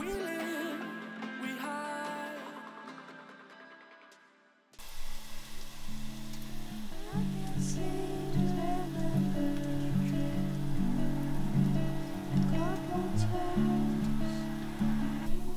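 Steady rain falls on a road-trip camper, a dense hiss of drops that starts abruptly after a short stretch of music and then carries on close and constant.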